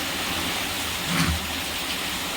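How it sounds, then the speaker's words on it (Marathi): Heavy rain pours down near a bus as a dense, even wash of noise that holds steady throughout, with a slight swell in the middle and no voices. "एस टीच्या आवाजापेक्षा ना हा पावसाचाच आवाज जास्त झाला आहे"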